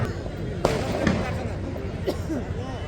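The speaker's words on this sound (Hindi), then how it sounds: "पटाखे अभी तक फूट रहे हैं" Scattered firecracker pops and bangs crackle over a noisy, crowded cricket tournament final at night, with a couple of sharper bursts standing out amid the din.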